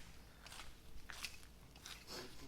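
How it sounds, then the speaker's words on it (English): A kitten chews on cigarettes beside a rusty 1986 GMC, making a few soft, close crunching bites in irregular bursts over quiet background. "He's over here chewing on cigarettes."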